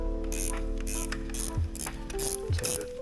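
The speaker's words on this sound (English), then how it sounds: "12mm ratchet spanner." 12mm ratchet spanner being worked on an engine during a teardown: rapid, close clicking pawl bursts repeating in an even back-and-forth rhythm, with a couple of metallic clunks, and no talk.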